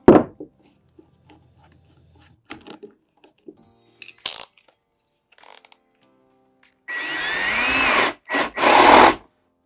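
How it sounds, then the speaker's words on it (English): A power drill bores a hole through a sign backer while a custom LED sign is being built, heard as a close, loud whine in three bursts near the end, after scattered small clicks and knocks. "So I'm gonna go ahead and drill the hole out, line it up"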